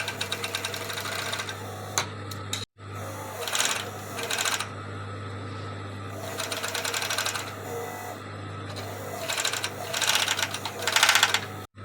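A sewing machine stitches a sleeve into the armhole of an off-shoulder swimsuit bodysuit, running in several bursts of rapid mechanical clatter with a brief stop partway through, up close over a steady low hum, no talking.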